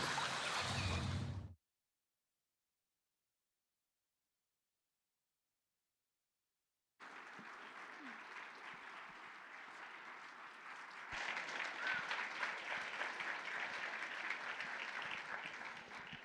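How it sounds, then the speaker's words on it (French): Audience applauding a solo cosplay contest performer at a Japan-themed convention: a brief burst, silence, then steady sustained clapping from a crowd that swells louder midway and carries on to the end. "On peut encore l'applaudir bien fort."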